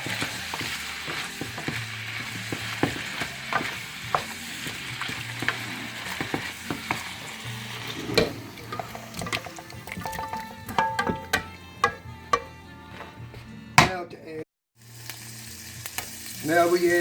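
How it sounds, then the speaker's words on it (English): Beef tenderloin sautéing in a pan for beef stroganoff, a steady close sizzle and crackle of frying with scattered clinks and scrapes of a utensil stirring, briefly dropping out near the end before the sizzling resumes. "Now our beef tenderloin is nearing completion. We just wanted to saute it up for a couple of minutes."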